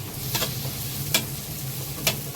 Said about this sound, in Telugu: బాగా కలబెట్టుకొని నూనెలో వేగాల